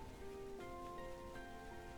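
Rain falling in the video game Xenoblade Chronicles 3, a soft continuous patter under faint tonal game music, quiet and steady without voices.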